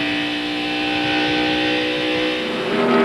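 NASCAR Craftsman Truck Series trucks racing at California Speedway in 1997, a loud sustained high engine roar with rising and falling pitch as the pack runs close together.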